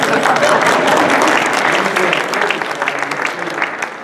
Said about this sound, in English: you can applaud it if you want.